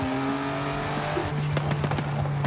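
A BMW i8 engine in Forza Horizon 5 drones steadily and loudly, its tone holding then stepping lower as the car shifts, with sharp crackles and tire noise building in the latter half.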